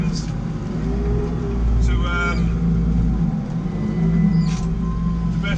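A JCB Fastrac 4220 tractor engine runs while ploughing, a loud, steady low diesel drone heard from the cab with slight shifts in revs, while someone talks over it throughout.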